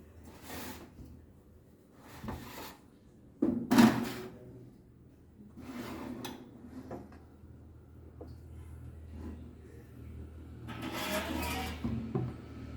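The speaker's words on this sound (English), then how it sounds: "Now I will just go and put this tray in there." Sharp clunks and a metallic clatter as a tray of Goan chicken buns slides into a preheated oven, with softer knocks of the oven door opening and closing around it in a quiet kitchen.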